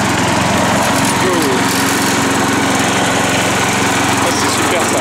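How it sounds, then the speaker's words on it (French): A Mac 6+ lawn mower runs at full throttle with the mulching setup engaged, producing a loud, constant engine drone with a steady buzzing tone that continues close up and unbroken. "De toute façon là elle est au maximum la tondeuse."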